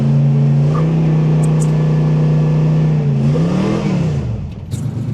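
Barn-find 1973 Dodge Challenger engine running loud and close, a low steady idle drone that rises into a rev partway through, then settles back with some faint background noise.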